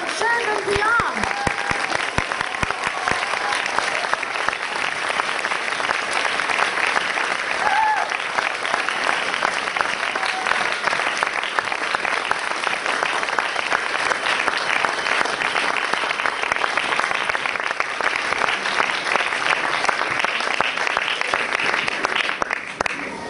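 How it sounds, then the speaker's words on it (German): Sustained, loud audience applause fills an indoor event as children are brought onto a stage at a press conference, steady dense clapping throughout without a break. "Einen großen Applaus für die Kids von Children Beyond."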